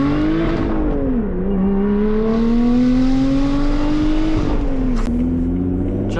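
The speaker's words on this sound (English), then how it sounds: "you might not think a Camry engine sounds better than a V8 Corvette" A Lotus sports car fitted with a Camry engine revs loudly and close, its engine note climbing and falling in smooth sweeps over several seconds with no talking.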